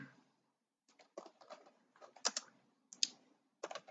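Typing on a computer keyboard while writing a blog article, bursts of close, crisp key clicks after a short pause, with irregular spacing and a few louder strokes.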